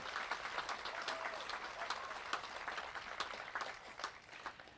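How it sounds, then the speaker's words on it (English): Outdoor rally crowd applauding hospital staff in Griffith: sustained, fairly distant and quiet clapping from many people, a continuous patter with scattered sharper claps standing out. "please join me in applauding and acknowledging these amazing people"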